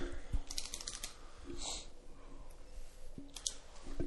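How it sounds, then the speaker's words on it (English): A pen gives sharp, repeated clicks close by in a quiet room, spaced irregularly, with light tapping and rustling between them. "I'm clicking this pen more times than I can count."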